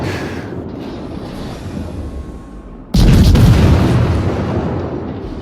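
Heavy naval guns from a destroyer firing in World of Warships, a sudden loud broadband blast that cuts in abruptly and rumbles on over a steady engine and sea roar, with no talk.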